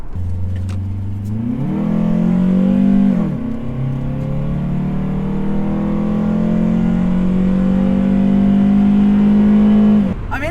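A 7th-generation Honda Accord coupe with a test pipe exhaust revs up through a gear change and keeps pulling hard, with a loud, raspy, droning exhaust note and no talking.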